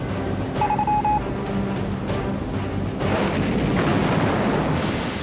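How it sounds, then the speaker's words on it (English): Aerial bombardment and artillery shelling in a WWII documentary about the Solomon Islands campaign: a dense, continuous rumble of explosions and booms, loud and sustained, swelling heavier in the second half. "Cartwheel begins with intense aerial bombardment and shelling"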